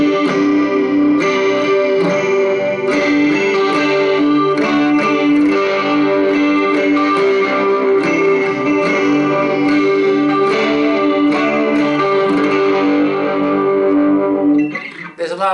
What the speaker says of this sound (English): The chorus effect is a much more recent development.